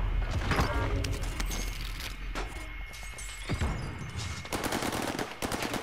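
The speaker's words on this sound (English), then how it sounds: "I'm getting shot from behind" Gunfire in a video game shooter, scattered sharp shots and short bursts of varying distance over a dense, busy game soundscape, with no talking.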